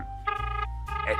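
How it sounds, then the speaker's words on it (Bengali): Telephone ringing in a Bengali cartoon, a bright electronic ring heard as repeated tonal bursts over a low hum, moderately loud with no talking. "রিং হচ্ছে।"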